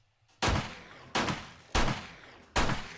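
Four loud gunshots ring out in the video game 7 Days To Die, evenly spaced about three-quarters of a second apart, each a sharp crack with a short decaying tail and nothing else audible.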